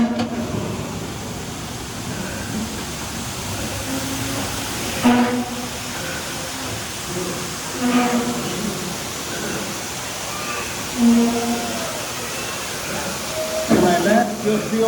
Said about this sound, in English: To my left, you'll see a waterfall.